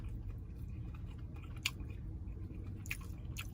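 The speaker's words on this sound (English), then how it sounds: "So we gonna bite it and see" Someone bites into a KFC Nashville Hot Chicken Sandwich and chews, faint close squishy mouth sounds with a couple of sharp crisp bites over a low background hum.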